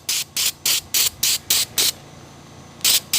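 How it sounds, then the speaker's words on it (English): Quick bursts from a spray bottle of foam air filter cleaner, seven evenly spaced squirts followed by a pause and one more, close and crisp with no talking. "Spray it on. What it does is it helps grab the dirt."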